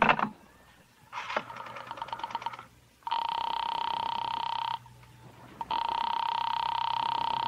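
A telephone call being put through on an old landline: a brief clatter of handling, a burst of rapid dialing clicks, then two long, steady ringback tones separated by a short quiet gap, heard close and alone.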